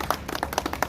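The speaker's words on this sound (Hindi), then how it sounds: "एक बार ये अध्यक्ष जी के लिए ताली बजा दीजिए" A gathering at a trade association's founding meeting in Karol Bagh, Delhi, claps for the new president: a short burst of distinct, fairly close hand claps in an uneven rhythm.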